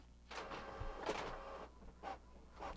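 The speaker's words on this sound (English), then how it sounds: "Make room for the printer" A home printer runs while printing copies, giving soft, repeated mechanical whirs and feed pulses in a rhythmic series of bursts, fairly faint and close, with no talking.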